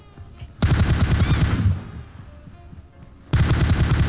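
Loud, rapid automatic gunfire in the mobile shooter PUBG Mobile comes in two close bursts separated by a short lull of quieter echo.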